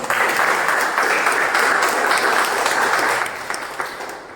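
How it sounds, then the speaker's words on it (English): Loud, dense round of applause from an audience at a speaking club meeting, steady for about three seconds before thinning out and fading. "We have a round of applause."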